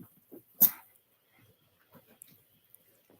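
Puppies whimper and let out short yips and barks, close and fairly quiet, in scattered bursts with one sharper bark standing out among the softer whines.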